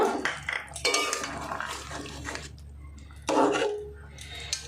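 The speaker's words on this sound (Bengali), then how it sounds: "এবার আমি গ্যাস অফ করে দিয়ে এই যে বেটে রাখা গরম মশলাটা দিয়ে দেব। একটু মিশিয়ে দেব।" Ground garam masala being stirred into a pangas fish curry in a pot off the heat, close metallic scraping and clinks of a spoon against the pot in a few uneven bursts with quiet gaps.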